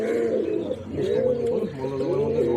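A domestic pigeon coos close by in soft, repeated rolling phrases that rise and fall, continuing steadily with a faint background hum.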